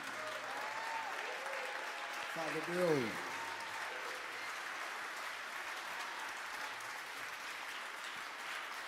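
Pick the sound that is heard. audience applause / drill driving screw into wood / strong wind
audience applause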